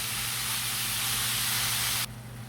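Minced beef for Jamaican beef patties sizzles in a hot pan, a steady loud hiss for about two seconds that suddenly drops to a quieter sizzle near the end.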